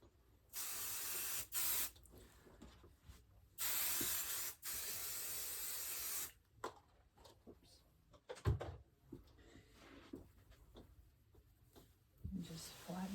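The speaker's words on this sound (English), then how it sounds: "I spray it." Several short aerosol bursts sprayed onto fabric for paper-piecing quilting, each a loud close hiss lasting about a second, followed by soft handling and rustling of the cloth.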